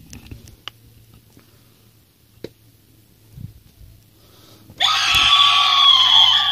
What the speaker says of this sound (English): He's got one badass scream.